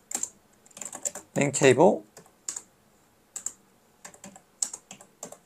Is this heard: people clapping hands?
no